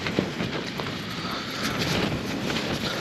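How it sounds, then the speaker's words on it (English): Strong night wind building toward gale force on the Pen-y-ghent fell, a steady loud roar of gusting air buffeting the microphone with no let-up. "this time it's looking like we're going to get gale force winds here"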